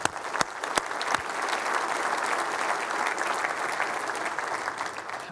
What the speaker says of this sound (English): Please join me in a round of applause for FC as well.